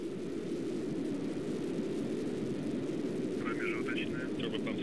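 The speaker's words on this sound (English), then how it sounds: "We have ignition of the Soyuz." Soyuz rocket engines igniting at launch, a steady broad roar of thrust holding at constant loudness throughout, with faint radio tones near the end.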